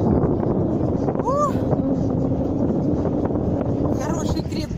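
Strong sea wind buffets the microphone steadily while parasailing over the sea off Turkey, a constant loud roar with a faint boat engine beneath and brief voices.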